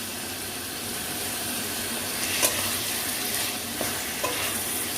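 Chopped tomato hits hot oil with bay leaf for a red chicken and potato curry, giving a steady, even sizzle throughout, nearby and fairly full, with a few light clicks of stirring and no speech.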